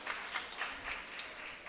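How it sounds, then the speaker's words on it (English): A round of applause welcomes an arriving guest at a national seminar for working women, the clapping steady and fairly faint with a few louder claps rising from the crowd. "we welcome her all kindly with a big round of applause"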